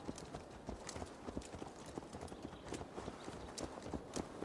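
Horse hooves clip-clop steadily at a walking pace in Assassin's Creed Valhalla, a regular run of close, crisp footfalls over faint game ambience.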